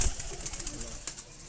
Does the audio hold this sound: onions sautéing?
no